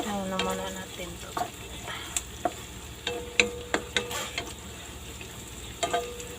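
Food browning in a hot frying pan for a dish of atchara with chicken and vegetables gives a continuous sizzle, broken by irregular scrapes and clinks as a utensil stirs it, close and without talk.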